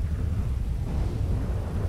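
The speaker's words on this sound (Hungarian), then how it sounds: "Van itt aztán mennydörgés, hogy minden ami szemszájnak ingere." Thunder from a thunderstorm in GTA 5, a deep, continuous rolling rumble mixed with windy noise, loud and close for under two seconds, with no talk.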